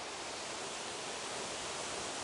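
A waterfall in the Kazdağları mountains near Yeşilyurt village roars as a steady, dense rush of falling water, loud and constant with no other sounds over it.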